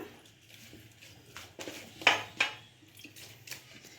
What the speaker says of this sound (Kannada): ಮಿಕ್ಸ್ ಮಾಡ್ಕೊಂಬಿಡೋಣ ಮಸಾಲೆನ